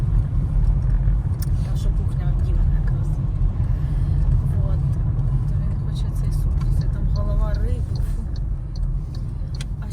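A car drives on the way to a local bazaar, its engine rumbling steadily and close throughout, with a faint tone rising briefly near the end and no voices.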